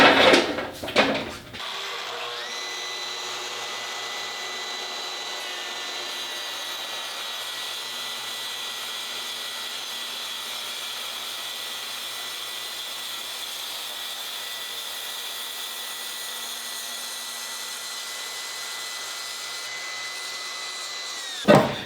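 A Festool TSV 60 track saw makes a single long scoring cut through a sheet without clamping, a steady loud whine sustained for about twenty seconds after a brief startup, close and without speech.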